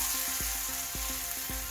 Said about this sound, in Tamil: கடைசியாக நான் வந்து ஒரு 2 கொத்து கருவேப்பிலையை ஃப்ரெஷ்ஷாக அப்படியே உருவி சேர்த்துக்கிறேன்.